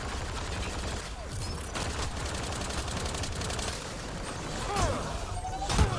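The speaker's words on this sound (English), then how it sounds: "Ooh, I'm getting shot from all sides here." Rapid gunfire crackles during a firefight in Mass Effect: Andromeda, dense bursts from several directions with sharp shots and mechanical clatter, steady and moderately loud, with a few louder hits near the end.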